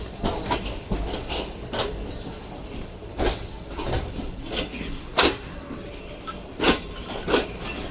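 Railway coaches being shunted at a station on the Lahore to Karachi line, with repeated sharp metallic clanks and knocks of couplings over a steady rumbling background, no talking.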